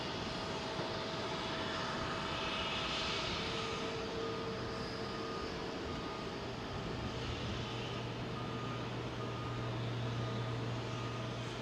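A Boeing 757 with GE90 engines departing London Heathrow at dusk, a distant jet roar that holds steady and broad throughout, with a faint low engine tone rising in the later part.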